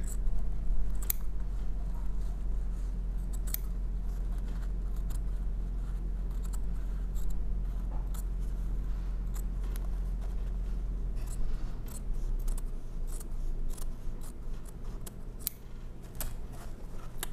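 Scissors snipping through paper in a run of crisp, irregular cuts over a steady low hum, growing busier toward the end.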